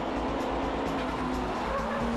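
Nissan S15 and Honda NSX race cars battling on the Fuji circuit, engines droning steadily and close with a low rumble throughout, with a faint voice underneath.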